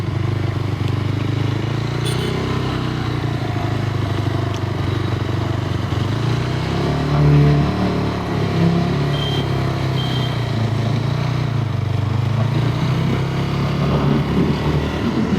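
A 2026 Yezdi Scrambler with the new fuel-injected Katar engine being ridden, its steady, fairly loud engine drone running without a break and rising slightly near the middle, with no talking.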